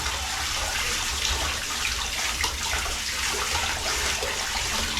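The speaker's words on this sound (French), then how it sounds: "Je refais couler l'eau chaude et on va juste rincer le petit savon pour enlever un peu l'excédent." Hot water pours steadily from a tap while soap is rinsed off wool, a loud, even rushing splash that continues unbroken throughout.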